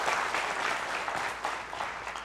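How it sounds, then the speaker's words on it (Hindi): An audience at a Hindi motivational health talk claps loudly and steadily, a dense wash of applause filling the whole stretch with no voices over it. "तो जोरदार तालियां बजाइए"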